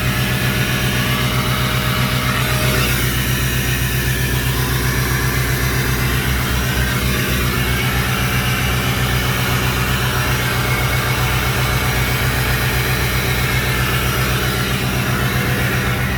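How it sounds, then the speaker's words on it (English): A 2005 Ford F250 FX4 with a Powerstroke diesel and deleted 4-inch turbo-back exhaust drones steadily at a loud, close idle, a constant low throbbing rumble with no talking. "4-inch turbo back exhaust."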